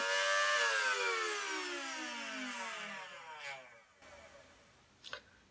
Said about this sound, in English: So this is a 18 mag. Okay, so I can rev and I hit the trigger. Even if I hold it, it will just do a single shot.